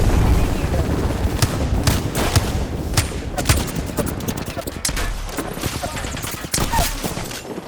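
Rapid automatic gunfire in an Apex Legends match, dense overlapping bursts of shots sounding near and loud throughout, with a player's voice talking over it.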